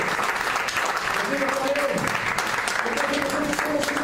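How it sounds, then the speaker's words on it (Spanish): Congregation in a church giving God a strong offering of applause, a dense steady wash of clapping filling the room throughout, with voices talking and a sustained tone rising over it midway. "Tiene una ofrenda fuerte de palmas a Dios."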